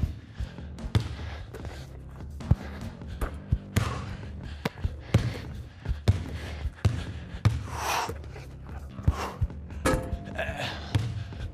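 A basketball thumps and bounces on an indoor court during a shooting workout, dull irregular impacts and occasional sneaker squeaks recurring at close range, with short breaths and bits of talk between shots.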